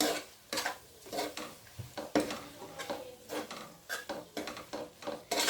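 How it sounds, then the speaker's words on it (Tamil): A spoon stirs a tomato and mint mixture in a pot for chicken biryani, making repeated knocks and scrapes against the pot in an uneven rhythm. "நல்லா அந்த தக்காளி இந்த புதினா எல்லாம் நல்ல ஒரு பேஸ்ட் ஆகிற வரையும் நம்ம நல்லா கிளறி"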